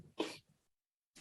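A single sharp sneeze in a meeting room, loud and close, bursting out alone and then cut off, followed by a short silence before a quick trailing sound.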